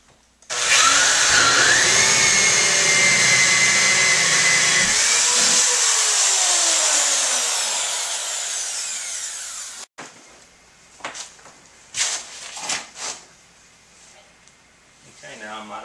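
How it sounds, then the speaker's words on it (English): A hole saw in a handheld drill cuts a 1-inch hole from a pilot hole in a box for a homestead backup solar power setup. A loud, steady whine runs about nine seconds, then winds down into scattered clatter and handling noises. "I have the hole saw installed in the drill, and I'm going to use my pilot hole and drill out my 1 inch hole."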